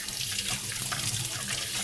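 Tap water runs steadily into a sink as hands are washed while ground pork is being prepared, a continuous close splashing hiss with no talk.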